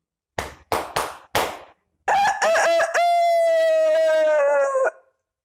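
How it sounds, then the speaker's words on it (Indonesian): Four sharp bursts, then a loud rooster crows once, a long drawn-out cock-a-doodle-doo close by, followed by silence. "Terdengar suara kokok ayam."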